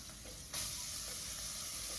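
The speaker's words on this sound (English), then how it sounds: "now the bacon is starting to render and cook, so I'm going to add my onion" Bacon and onion fry in a pot over medium heat with a steady close sizzle, and a sudden louder hiss flares up as the onion goes in, then stays bright and continuous with no talk.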